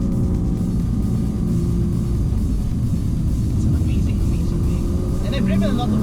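Engine of a Nissan GT-R R35 at light throttle through a mountain corner, a steady deep rumble close up inside the cabin, with someone talking over it.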